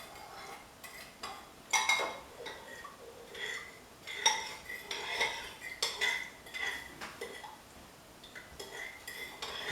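A dressing of sugar and vinegar for coleslaw being mixed in a bowl: an irregular run of utensil clinks and scrapes against the dish, close and moderately loud, with no talking.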